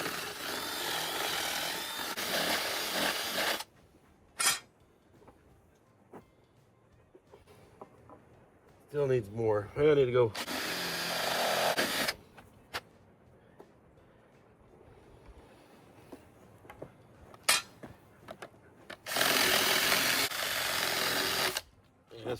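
A power drill whirs in several loud bursts, stopping and starting, with quiet gaps, clunks, and a few brief spoken words between runs.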